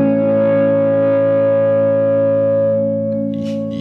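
A sustained electric guitar chord rings out through modulation and reverb pedals mixed at 50 percent, with shimmering modulation and a reverberant wash, slowly fading, with a faint pick sound near the end.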